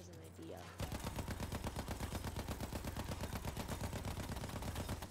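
Rapid automatic gunfire from the video game Battlefield 1 erupts after a brief quieter moment, then continues as a loud, steady stream of close, evenly spaced shots.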